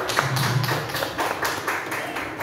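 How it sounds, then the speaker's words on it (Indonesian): A group in a school workshop claps together, a short burst of fairly close hand claps with a rhythmic, uneven patter lasting a couple of seconds. "Tepuk tangan untuk kita semua"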